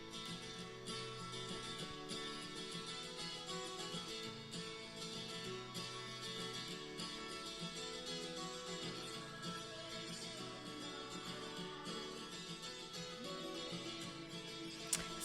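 Music plays at low volume with the lead vocals stripped out, leaving a dense instrumental backing of chords and beat running throughout.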